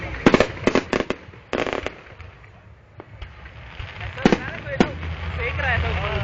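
A fireworks show crackles and bangs in sharp bursts, several loud pops in quick clusters followed by fainter scattered cracks and a steady rumble, with voices talking in the background.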